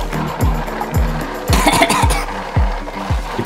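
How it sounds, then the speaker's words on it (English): Dry cement is shoveled into the spinning mixing drum of a custom kids' cement truck, with repeated scraping thumps about twice a second over a mechanical hum. "We start by shoveling in cement."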